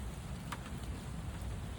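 Steady rain falling outdoors during a honey bee hive installation, a soft continuous broadband hiss with low rumble and no voices.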